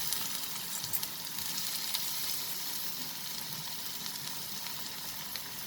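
Onions and ginger garlic paste sizzle in a pan for a prawn curry, a steady, bright hiss of frying with small crackling pops throughout, close and even.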